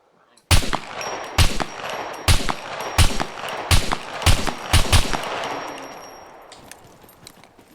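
Gunshots in the survival game SCUM: about ten sharp, loud single shots fired at uneven intervals, each ringing out with a metallic echo, followed by a fading tail and a few faint clicks.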